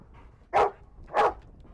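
A search and rescue dog on a fire department search team gives two sharp, loud barks spaced about half a second apart, close by with no talking.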